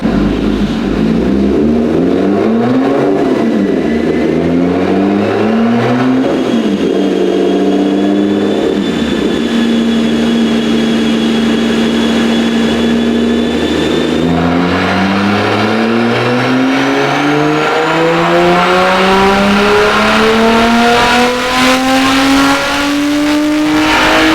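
A Lotus sports car strains on a dyno with its rev limiter raised to 7,250, the engine climbing loud and close through repeated rising revs into a sustained high-pitched scream with no voices.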